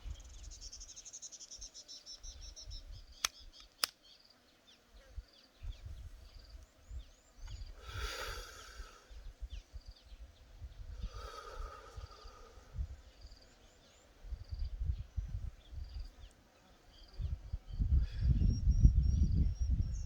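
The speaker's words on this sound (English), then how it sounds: "I'm hearing so many different bugs buzzing around at the same time." Many insects, like crickets, chirp and buzz together outdoors in a dense, continuous chorus, with a few louder whirring passes and low rumbling bumps toward the end.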